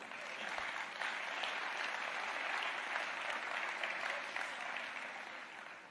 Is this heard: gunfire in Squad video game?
no